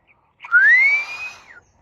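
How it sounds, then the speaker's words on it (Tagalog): A single clear whistled note glides upward, then holds steady for about a second before trailing off; close and fairly loud, with no talking. "Sa ngayon, sipol muna tayo."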